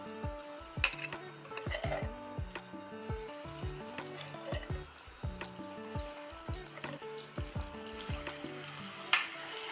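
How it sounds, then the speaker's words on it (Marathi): Eggs frying in hot oil over a low gas flame for egg biryani, with steady sizzling and crackling plus sharp clinks and scrapes of a utensil against the pan throughout, close and with no voices. "तेल गरम झाले, हो झालेलं आहे. त्याच्यामध्ये अंडी टाकू आपण."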